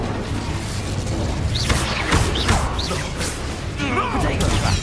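In the Hogwarts Legacy video game, an Incendio fire spell is cast amid a dense, loud combat mix of whooshes, bursts and crashes, with voices shouting over the action.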